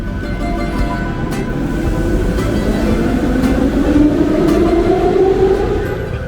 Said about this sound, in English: we're going to take the metro just one stop to Monastiraki.